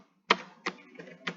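Typing on a computer keyboard while coding a mobile app, four distinct close key clacks spaced irregularly over a quiet background, no talking.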